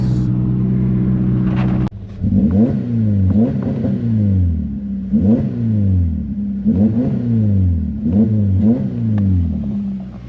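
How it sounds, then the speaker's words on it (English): A Subaru sits at idle with a steady hum, then its engine is revved hard in a rapid series of about six rising and falling blips, loud and close, with no voices. "Celebratory revs, right?"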